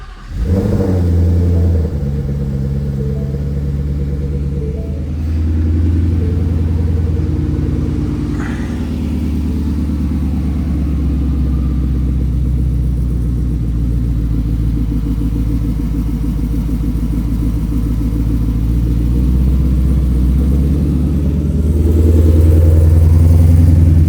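Ford S550 Mustang fitted with an On 3 Performance mid-mount twin turbo system starts up and settles into a steady, deep idle rumble, loud and close, with the engine swelling briefly near the end.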